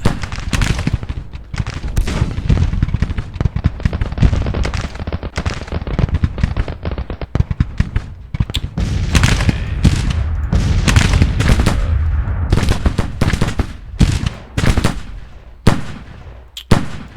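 Cannon fire and massed rifle volleys in a Civil War battle game at Shiloh, a dense run of sharp booms and crackling shots, some near and loud, others scattered and distant, almost without letup.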